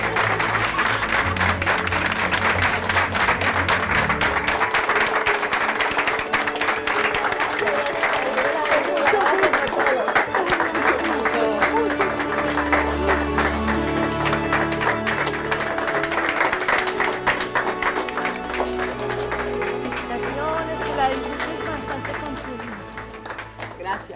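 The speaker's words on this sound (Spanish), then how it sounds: "Vamos a recibir un aplauso." At a house handover ceremony in San Marcos, Sucre, sustained crowd applause fills the space at steady loudness, mixed with voices and tonal background sound, easing slightly near the end.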